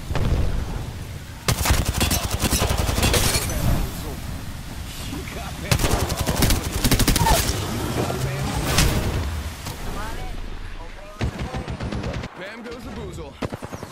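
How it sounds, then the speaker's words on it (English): Repeated bursts of gunfire from a Fortnite match crack loud and close in clustered volleys, with short pauses between them and a dense game soundscape underneath. "Shots fired and they're hitting me."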